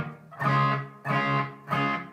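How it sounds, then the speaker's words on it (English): Three strummed electric guitar chords ring out one after another, each sustaining with a slight distorted edge and a light wash of reverb, played up close with no talking. "There actually is a bit of reverb on it."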